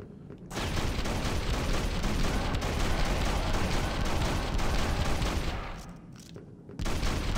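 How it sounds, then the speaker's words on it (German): Continuous dense bursts of shotgun fire in the video game Hunter: The Reckoning, sewer level, loud and sustained for several seconds, with a brief drop near the end before firing resumes. "Zombie mit Schrotflinte?"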